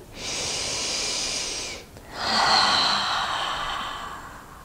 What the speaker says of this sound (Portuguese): Respiração profunda.